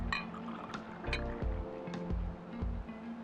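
Vodka poured into a cocktail shaker of ice for a Moscow mule, a gurgling liquid pour with light clinks of ice, close and moderately quiet, without talk.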